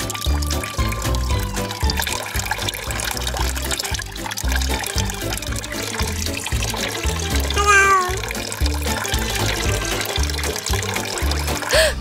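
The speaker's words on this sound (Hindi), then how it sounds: "चलो इसको पानी से पिघलाते हैं।" Water is poured over a block of ice to melt it, producing a loud, continuous splashing and trickling that runs steadily throughout, with sharp bubbly gurgles near the middle.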